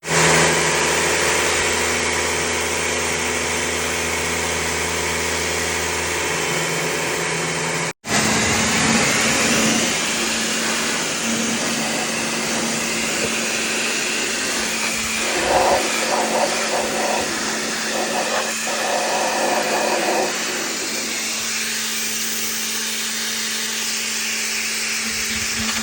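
A pressure washer cleans a Volkswagen T5 camper van's engine bay, hissing and roaring continuously with a motor droning underneath, briefly cutting out once before spraying steadily again.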